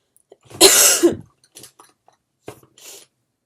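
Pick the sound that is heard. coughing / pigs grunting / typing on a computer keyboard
coughing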